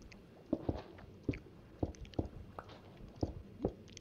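Someone chews close to a microphone during a Minecraft Build Battle stream, producing soft, moist bites in a steady rhythm about twice a second, faint and with nothing else around them.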